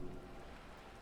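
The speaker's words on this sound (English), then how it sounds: "All around you, rain keeps falling down, on the wooden board she's standing on, and on the water around you." Steady rain falls on wooden boards and open water in the video game Disco Elysium, a continuous close hiss with no distinct drops standing out.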